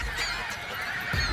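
Geese honk by the water on a fishing outing, a close, loud, raucous flurry of overlapping calls with no talk over them.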